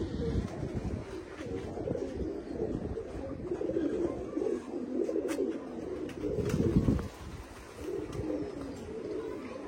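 Kept pigeons coo softly and continuously in a quiet loft, their low murmuring calls overlapping in a steady, faint chorus.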